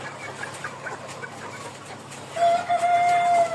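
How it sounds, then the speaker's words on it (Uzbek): A white Lomin Sandy chicken gives a few quiet clucks, then a louder sustained, drawn-out call rises near the end over faint farmyard noise. "Mana oq tovuq Lomin Sendi, mana oyog'ini rangi."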